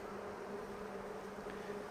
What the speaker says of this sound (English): Just a lot of bees.